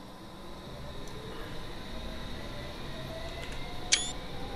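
A camera shutter clicks once, sharp and brief, for a screenshot in the Train Simulator game, standing alone over a steady low hiss of station ambience on the Hammersmith & City Line.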